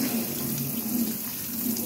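Tap water runs steadily into a sink while vegetables are washed for atsara, a Filipino pickle, as a close, continuous splashing stream with no voices.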